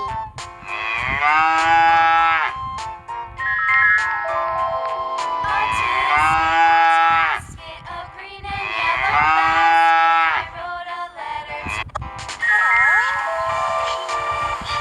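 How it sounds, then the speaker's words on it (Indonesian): Cattle moo in several long, loud calls, four drawn-out lowing sounds separated by short pauses, with no talking over them. "Sapi."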